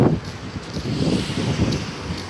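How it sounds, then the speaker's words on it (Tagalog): Light wind blowing steadily across the microphone, a low rustling rumble with soft gusts and no voices. "Hangin na lang na kaunti."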